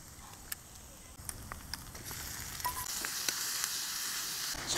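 Food sizzling in oil left from frying eggs in a pan on a Trangia camping stove, a close steady hiss with sharp crackling pops that grows louder toward the end.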